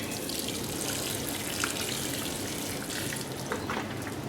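Water pours steadily onto potted fig tree air layers in a cool cellar, a continuous splashing hiss with no pauses, close and fairly even in level.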